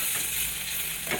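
Crushed ginger, garlic and turmeric powder being stirred in a hot pan, giving a steady, close frying sizzle with soft scraping throughout, no voices.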